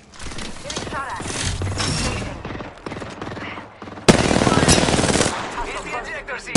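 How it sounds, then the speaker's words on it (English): Video game gunfire crackles in loud, rapid automatic bursts, a long sustained volley followed by a sharper, louder second barrage after a brief lull. "Getting shot at."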